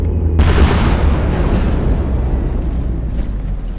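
A loud, deep boom of naval cannon fire and explosions from the warship combat game From The Depths bursts out, then rumbles and decays into a long, roaring tail.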